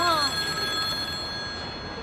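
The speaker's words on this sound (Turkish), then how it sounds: "Ya bakın şu telefona biriniz hayrınıza müşteri arıyor." A telephone rings in a small repair shop, its bell-like tone loud and steady for the whole moment, with a busy room murmuring faintly underneath.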